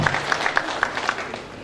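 Applause from an audience at a bursary award ceremony for needy students joining Form One, honouring the students' parents and guardians; a steady, moderately loud patter of many hands clapping for under two seconds.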